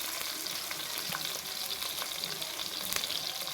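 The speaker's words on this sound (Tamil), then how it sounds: "அதையும் போட்டு வதக்கணும்" Crushed ginger sautéing in a pan for a tomato kurma, a steady close sizzle with scattered stirring scrapes and small crackles throughout, no voices.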